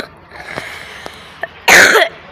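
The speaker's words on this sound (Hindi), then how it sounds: "मुझे बहुत खांसी लग रही है।" A single harsh cough bursts out near the end after a few faint clicks and soft breathy sounds, loud and close in a quiet morning home setting.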